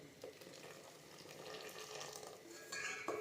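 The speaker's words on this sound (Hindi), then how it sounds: "अब हम इसमें डाल देंगे उबला हुआ पानी।" Hot boiled water poured into boiling sugar syrup with citric acid for homemade Rooh Afza sharbat, a steady close splashing and sizzling wash with a spoon stirring, growing slightly louder toward the end.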